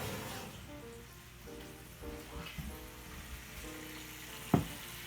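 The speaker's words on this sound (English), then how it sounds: "I can hear it sizzling." Prime rib sizzles quietly in a 300-degree oven, a soft crackling hiss with occasional pops, including one sharper snap near the end.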